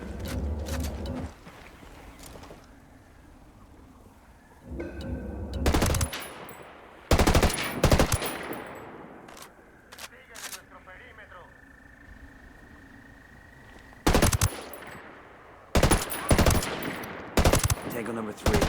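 Loud bursts of mounted machine-gun fire in Ghost Recon Wildlands come in separate volleys between quieter stretches of ambience and faint bird coos, and a voice speaks in places.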